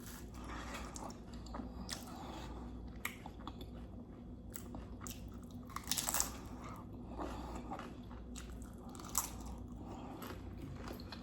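Close-up crunching and chewing of loaded nachos topped with Greek yogurt in place of sour cream, with repeated crisp bites and wet mastication continuing at an irregular pace and no talking.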